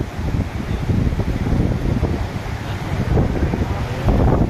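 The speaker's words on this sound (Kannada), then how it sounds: "ರೀತಿ ನದಿ ಹರಿಯುತ್ತಿರೋದನ್ನು ನಾವು ಈಗ ನೋಡ್ತಾ ಇದ್ದೀವಿ" The Yamavati river flows past in a steady, broad rush of water heard from a bridge, mixed with gusts of wind buffeting the microphone.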